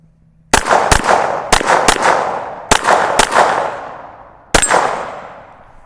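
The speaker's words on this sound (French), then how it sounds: "2 coups en haut et ensuite le gong." Canik TTI Combat pistol shots ringing off steel targets at a range: six sharp reports in two quick pairs and singles, each followed by a long metallic ring, the last shot hitting a steel gong with a bright resonant clang.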